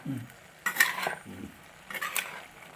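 Vaikom clam meat being stirred in a clay pot, heard as two close scraping strokes about a second apart over a faint background.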